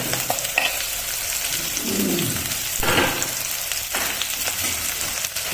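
Onion, garlic and chillies sizzle in a hot pan, a loud continuous frying hiss broken by several stirring scrapes and bursts of spatter, close up and without speech.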